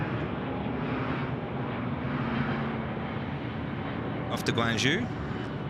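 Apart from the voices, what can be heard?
China Southern airliner taking off at night from Sydney Airport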